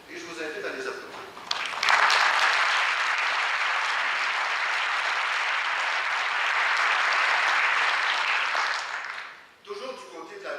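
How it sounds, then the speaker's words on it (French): A conference audience applauding young award winners at a professional translators' congress, a full, sustained round of clapping lasting several seconds before fading, with speech briefly before and after. "Et je vous invite à les applaudir."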